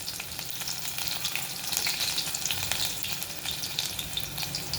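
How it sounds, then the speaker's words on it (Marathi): Crushed garlic cloves and cumin fry in hot oil for a tempering, a loud continuous crackling sizzle with light stirring throughout, no voices. "लसूण खरपूस होईपर्यंत आपल्याला ही फोडणी परतून घ्यायची आहे."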